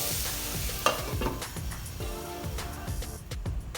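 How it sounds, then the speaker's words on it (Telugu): Small chopped carrot pieces fry in oil for carrot onion masala curry, a close crackling sizzle mixed with rhythmic scraping of a spoon stirring the pan, no speech. "చిన్నగా కట్ చేసుకున్న క్యారెట్ పీసెస్ వేసి బాగా ఫ్రై చేసుకోవాలి"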